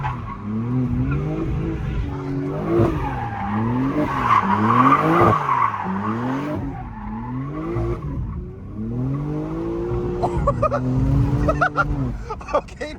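A Jeep Trackhawk drives hard with its tires skidding and squealing in repeated rising and falling swoops. The engine rumbles loudly throughout at close range.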